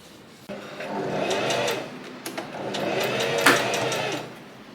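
A sewing machine stitches a row in curtain fabric, a close, fast mechanical whirring that speeds and slows in short bursts, with a few small clicks.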